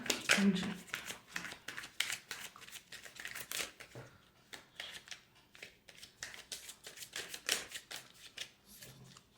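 Tarot cards being shuffled by hand: rapid, close, crisp riffling clicks and flicks in uneven bursts with brief pauses, and a low voice speaks at times.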